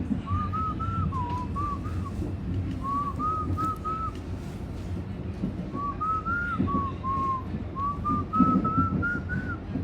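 A person whistles a song as a wavering, clear tune of several short phrases, close and fairly loud over a steady low rumble like a moving vehicle.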